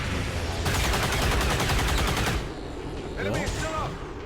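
Rapid automatic gunfire from the XCOM 2 turn-based tactics game, a dense loud burst of repeated shots lasting about two seconds, followed by a softer whooshing effect and a voice talking over the game sounds.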